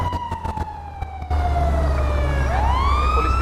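A police siren in a video game wails loud and close, its pitch falling and then rising again over a steady rumble of traffic.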